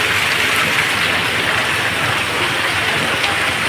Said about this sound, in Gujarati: તાપી પંચાયતમાં ધોધમાર વરસાદ છે.